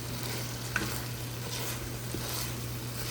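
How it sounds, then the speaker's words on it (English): Rice being stirred into a seasoned pan for arroz con pollo, a constant sizzling hiss with a couple of soft scraping taps from the spoon. "So now I'm going to add my rice. And we want to mix everything together."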